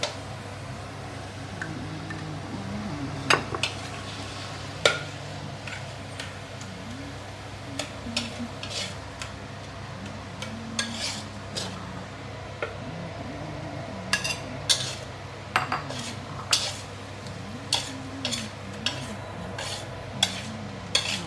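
Long beans and minced pork stir-frying in a pan over low heat make a soft, continuous sizzle, while a utensil scrapes and clinks against the pan in scattered, irregular taps that sharpen toward the end.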